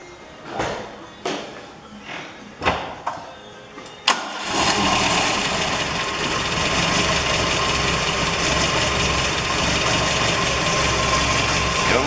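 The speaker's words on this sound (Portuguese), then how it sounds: "Funcionamento do carro, vou dar uma funcionadinha pra vocês verem como é que tá." An Argentine four-door car's engine cranks in several short starter bursts, catches after about four seconds and settles into a steady, close idle running below its normal standard.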